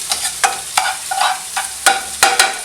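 Miso-glazed scallops sear in a hot pan with a loud, close sizzle. Bursts of spitting and crackle come every fraction of a second, and no one speaks.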